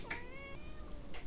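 A cat meows once in a single drawn-out call, fairly close and clear, over a low background rumble, with a brief soft noise at the end.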